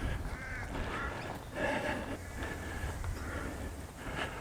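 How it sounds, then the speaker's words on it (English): Grebes calling across a conservation park wetland, repeated chattering and honking bird calls over a steady outdoor background, moderately near and continuous. "Oh, I can hear the grebes."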